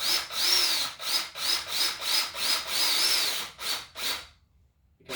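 Cordless drill with variable speed trigger driving screws into a wooden theatre flat during assembly: about ten short whirring bursts in a steady rhythm, each rising and falling in pitch, close and loud, ending in silence.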